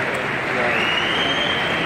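Football stadium crowd at Everton versus Sunderland applauding a player, a steady broad wash of clapping and crowd noise throughout, with a commentator talking over it.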